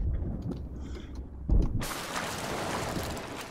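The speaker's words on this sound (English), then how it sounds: "someone killed him with a cannonball" Cannon fire in Sea of Thieves, a single heavy boom from the ship followed by a broad rushing roar of wind and sea, moderately loud with faint background game sounds.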